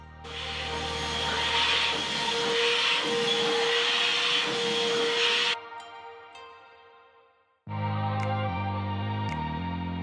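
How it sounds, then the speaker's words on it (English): A loud, steady handheld vacuum cleaner whine runs for several seconds while cleaning a sofa, cuts out briefly, then starts up again with a lower, rumbling tone. "It has a handheld removable vacuum that I can easily use to clean inside of my sofa area"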